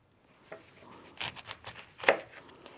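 Knife cutting an orange for a tequila cocktail: a few soft, close chops and slices with quiet taps and one sharper cut near the end, no voices.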